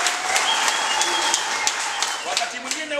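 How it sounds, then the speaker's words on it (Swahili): Crowd applause at an outdoor political rally in Mkoma ward, sustained dense clapping for about three seconds with a few voices and cheers mixed in. "Nipigieni makofi mengi."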